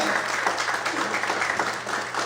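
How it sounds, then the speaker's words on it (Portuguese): A church congregation claps and cheers in praise, a dense, continuous wash of applause filling the room for the whole stretch, loud and close. "Todos podem aplaudir e exaltar ao Senhor."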